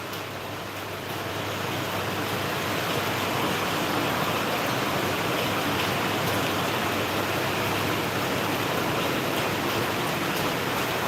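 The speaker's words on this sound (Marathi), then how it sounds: "आज आमच्या बेडकिन कंपनी मध्ये चांगला खतरनाक आणि मस्त पाऊस चालू आहे" Heavy rain pours down at a company site in the Bidkin industrial area of Chhatrapati Sambhajinagar, a steady dense roar of falling water that holds constant without breaks, with no voices heard.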